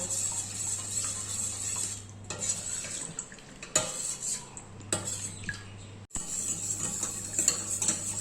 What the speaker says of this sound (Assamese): এতিয়া গাখীৰখিনি খুব ফেটিব লাগিব, ধুনীয়াকৈ খুব ফেটিব লাগিব